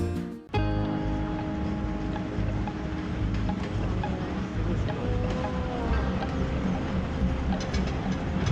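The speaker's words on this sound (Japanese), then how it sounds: "こんなレトロな電車が走ってて" A retro train runs along the tracks of the historic Thailand–Burma Railway in Kanchanaburi, Thailand, its engine droning low and steady close by, with rail rumble, squeals and clatter throughout after a brief knock at the start.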